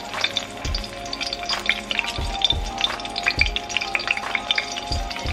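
Red snapper fries in hot oil for Jamaican escovitch fish, a dense, bright crackling sizzle running throughout, broken by a few low thumps and bubbling bursts.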